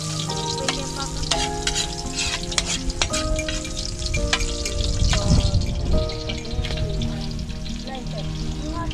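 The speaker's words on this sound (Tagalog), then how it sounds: "magsangag ng kanin" Rice is stir-fried in a pan, with continuous loud sizzling and repeated scraping and clattering of a utensil against the pan, close up and busy throughout.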